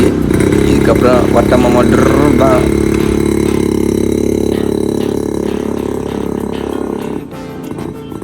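A 1983 Jawa Yezdi 250cc vintage motorcycle idles close by with a steady, throbbing two-stroke engine note, while someone speaks briefly over the running engine.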